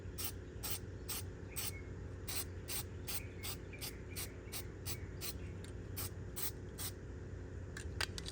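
A rapid series of short aerosol bursts lays a second coat of Plasti-Dip over chrome trim on a car, a dozen or more quick hisses in a steady rhythm over a low constant background hum, close and fairly quiet.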